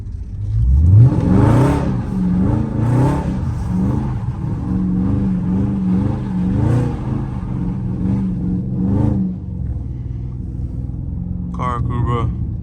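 A Dodge Charger or Challenger Scat Pack, traction control off, revs and pulls hard in second gear on a damp road, its engine note rising in surges over a steady rumble, with voices talking inside the car.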